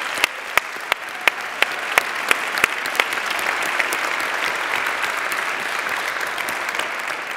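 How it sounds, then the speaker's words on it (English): Audience at a women-in-business awards ceremony breaks into sustained applause for award nominees, with a few sharp individual claps standing out early over a dense, steady wash of clapping that continues throughout. "very huge applause for all of them"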